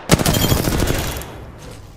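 A short, loud burst of rapid machine gun fire in a video game, crackling shots that ring out and then decay into a fading tail.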